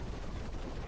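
Summoner's mortar explosives going off in a video game, a dense, rumbling blast that fills the whole short moment with broadband roar and no clear pause.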